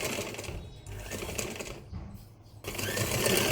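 A sewing machine runs in steady bursts while stitching a fabric hand pouch, its rapid needle chatter pausing briefly midway before resuming louder and close at hand, with no talk.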